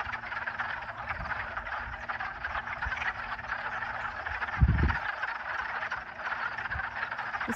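Many frogs croak together in a pond, forming a dense, continuous chorus that stays steady throughout. A brief low thump is heard near the end.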